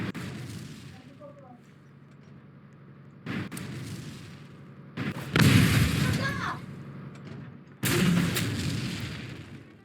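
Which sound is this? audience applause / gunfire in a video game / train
gunfire in a video game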